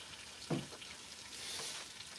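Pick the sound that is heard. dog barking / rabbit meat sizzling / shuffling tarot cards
rabbit meat sizzling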